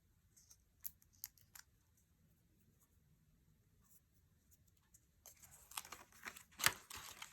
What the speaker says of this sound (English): Let's peel those backings.